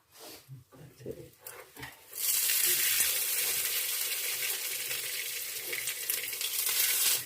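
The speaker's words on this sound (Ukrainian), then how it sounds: "І так смажимо всі." Belyashi meat pastries fry in hot oil, a broad loud sizzle that begins abruptly after a few soft handling knocks and rustles and then holds steady to the end.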